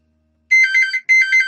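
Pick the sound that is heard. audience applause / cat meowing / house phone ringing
house phone ringing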